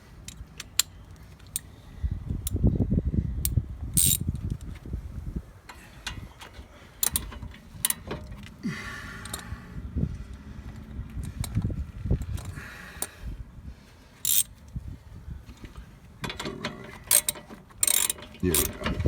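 Hand ratchet tightening bolts on a Subaru front brake during a rotor and pad replacement, giving repeated quick clicking bursts with clanks and handling noise, close up, with no talk.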